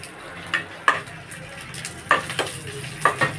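Asafoetida goes into hot oil for tempering a sour curry, giving a steady soft sizzle broken by several sharp clicks and scrapes of a spoon stirring in the pan.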